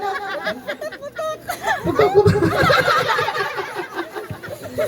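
A person clucks and squawks in imitation of a chicken at a first birthday party, with other people chattering and laughing around them.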